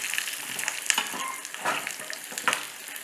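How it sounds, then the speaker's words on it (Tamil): Curry leaves frying in hot oil in a pan while making temple-style puliyodharai, a steady crackling sizzle with a few sharper pops and stirring scrapes throughout, close and moderately loud. "கருவேப்பிலை கூட இதில் நல்லா வறுப்படணும்."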